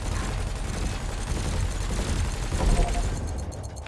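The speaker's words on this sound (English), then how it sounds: "Your cannon will automatically reload until the ammunition supply runs out." Ship cannon fire in the space game Elite Dangerous rumbles as a dense, continuous barrage of booming shots, loud and close, without talk.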